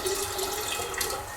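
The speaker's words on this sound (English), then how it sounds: "we'll pour in our half cup of old kombucha" Old kombucha is poured into a jug of room-temperature water in a cottage kitchen. A continuous close liquid stream splashes and gurgles without a break for over a second.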